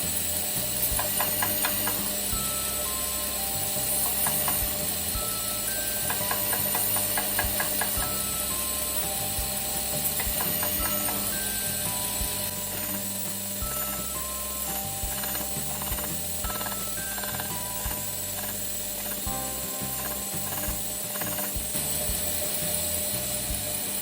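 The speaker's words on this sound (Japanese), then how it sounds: "220番が終わったら400番で磨いていきます。" A Damascus kitchen knife is worked against 400 grit abrasive on a machine, giving a continuous loud mechanical whir with rapid rattling, ratchet-like clicking that pulses throughout, with no voices.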